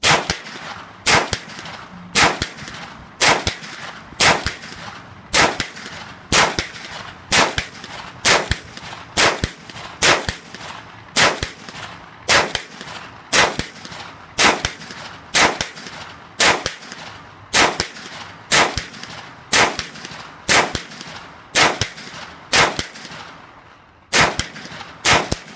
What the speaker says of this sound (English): Hear those bullets smack into the target.